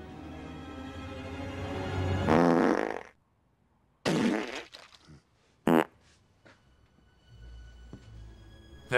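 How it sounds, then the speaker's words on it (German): Several cartoonish fart sound effects: one long, loud rasping blast, then shorter bursts and sputters separated by silence, all dry and close. "Wer hat gefurzt?"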